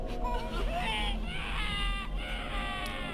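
Kaufman, a video game character, lets out a strained, wavering cry that rises and breaks in pitch across a few seconds, over a low constant background rumble.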